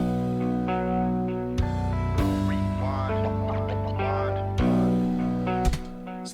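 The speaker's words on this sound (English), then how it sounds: "how to do a vocal scratch in FL Studio using Grossbeat" A vocal rewind sample is chopped into a turntable-style scratch with the Gross Beat plugin in FL Studio. It plays as stuttering, pitch-bending bursts over a dense, continuous electronic beat with abrupt cuts.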